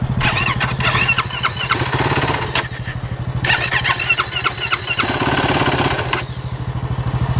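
A Yamaha YFZ450R quad with a spark plug problem runs close by, its engine buzzing loudly and unevenly, surging and dropping with sputtering gaps throughout, with no talk.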